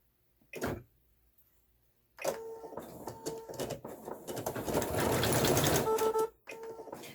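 An embroidery machine stitches on a hoop, giving a brief buzz, then running in a rapid, whirring, mechanical stitch for several seconds before stopping.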